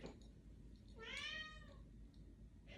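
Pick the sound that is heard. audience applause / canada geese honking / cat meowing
cat meowing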